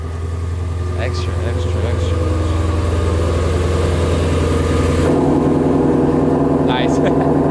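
A Volkswagen GTI engine idles with a steady mid-pitched hum and a slight lift in level partway through, close by and continuous, with people talking faintly over it.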